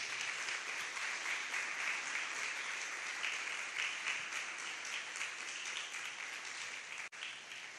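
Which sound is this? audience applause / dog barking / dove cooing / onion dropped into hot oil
audience applause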